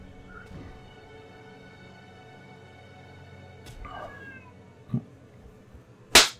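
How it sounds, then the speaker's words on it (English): Pet cats yowl and caterwaul at night in the background, with a brief drawn-out growling cry and a couple of sharper screeches, under faint talking nearby. "Got my cats in the background, guys. So they're deciding they want to fight tonight."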